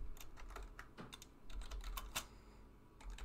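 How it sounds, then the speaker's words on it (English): Light keystrokes typing a command on a computer keyboard, a quick irregular run of close, soft clicks with brief pauses, no talking. "And we'll type in Python,"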